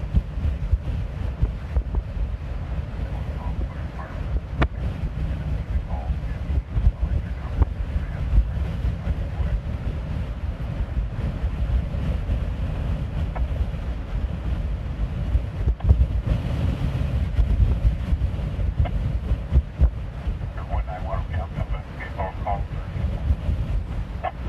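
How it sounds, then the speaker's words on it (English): Strong high wind in Lorain County batters the microphone with a continuous low buffeting rumble and gusty thumps, steady and close throughout. "The wind is so strong it's moving the camera around."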